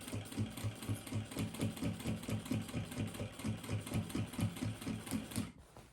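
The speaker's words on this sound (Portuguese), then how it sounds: "E vamos iniciar a costura." A sewing machine stitches a makeup bag, its needle hammering in a fast, steady mechanical rhythm close up before stopping abruptly near the end, with no voices.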